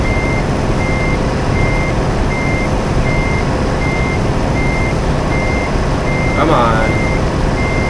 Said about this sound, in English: let's put this into reverse